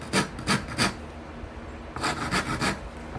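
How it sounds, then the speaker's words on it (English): Coarse rasp filing a wooden neck slot on a cigar box guitar, two bursts of three to four rough, scraping strokes close up, with a quiet pause between them. "coarse rasp like this just to kind of even that out some"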